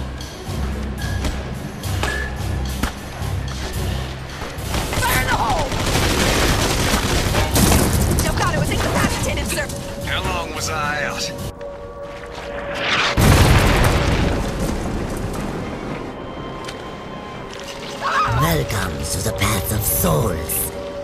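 Deep booming grenade explosions and bursts of gunfire roll through combat in the PlayStation 3 game Clive Barker's Jericho, loud and sustained with several distinct blasts, while voices talk over the action.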